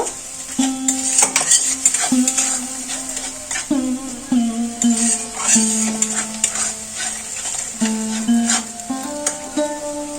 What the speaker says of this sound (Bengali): আদা কাঁচা লঙ্কা সর্ষে দিয়ে দেব অল্প একটু জল দেব মশলাটা একটু কষিয়ে নেব